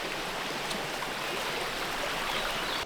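A river weaving through woodland during a rainstorm, heard as a constant close rushing wash of flowing water that holds steady throughout, with no voices.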